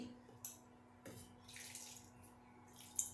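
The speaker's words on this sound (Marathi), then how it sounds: "मी आता याच्यामध्ये पाणी घातलंय थोडं आणि हातानेच मी याला मिसळून घेते" Quiet splashes and trickles of water being poured into a tamarind mixture and mixed by hand, with a few soft bursts, close by and faint, with light clinks between them.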